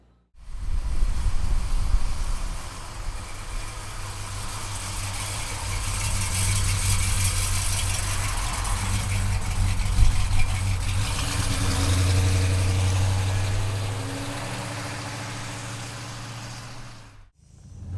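A 1969 Dodge Charger's engine idles steadily and loudly throughout, a deep low rumble holding even with slight swells before cutting off near the end.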